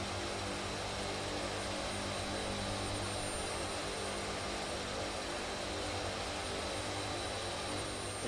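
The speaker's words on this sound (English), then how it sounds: "And yet here I am flying a C-17." Steady, loud drone of a C-17 transport's engines in a flight simulator game, an unbroken roar with a faint high whine running throughout and no break or change.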